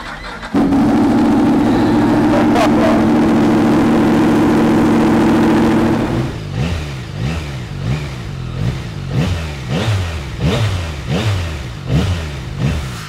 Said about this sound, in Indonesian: Suaranya halus tapi kedengaran banget bertenaganya guys ya. Mirip-mirip sama R1 suaranya guys.